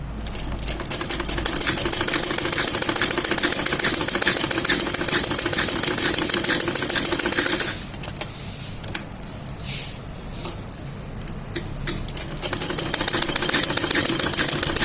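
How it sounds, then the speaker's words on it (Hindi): A sewing machine stitches along marked lines on cloth for a mohori design, a loud, fast, continuous mechanical rattle that eases to a quieter whir midway before picking back up, with no voices. "हम निशान पर सिलाई लगाते जाएंगे।"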